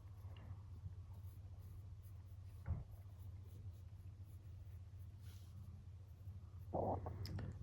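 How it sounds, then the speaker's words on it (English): Pencil sketching on paper during fine bookbinding work, heard as a soft, faint scratching against a low steady hum, with a brief louder rub near the end. "so I'll just sketch out my own"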